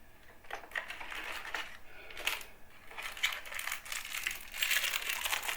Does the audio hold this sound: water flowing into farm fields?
no